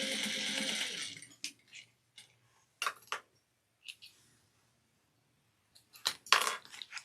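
A sewing machine stitches a 3/8-inch seam on a fabric crossbody bag: about a second of steady, close motor whirring, then scattered short clicks and bursts with quiet gaps between them.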